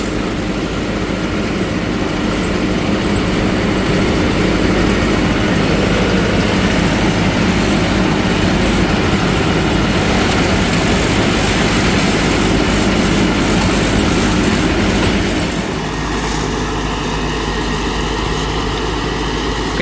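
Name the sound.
tractor engine mulching banana plants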